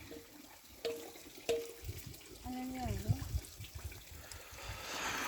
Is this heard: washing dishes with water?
yes